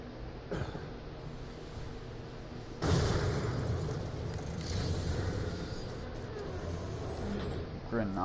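A grenade blows up in the shooter game Borderlands: The Pre-Sequel, a sudden heavy boom about a third of the way in that rolls off into a rumbling tail, with a voice speaking around it.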